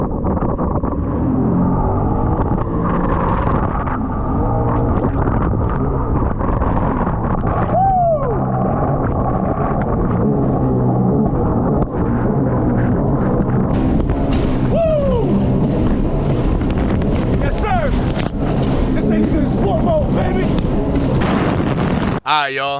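A Sea-Doo Spark jet ski roars across open water, its engine droning continuously with wind buffeting the microphone and occasional pitch swoops as throttle changes, loud and close throughout.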